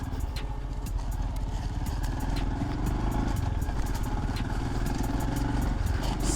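A Royal Enfield Scram 440 motorcycle ridden off-road in second gear at about 30 to 40 km/h on a rough, broken track, with a steady close engine thrum and rattling clatter throughout.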